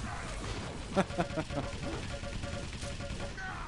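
Gunfire in a Quake team deathmatch sounds as a few sharp shots around the one-second mark, followed by lighter rapid firing. It sits under ongoing game noise, with speech likely in the mix.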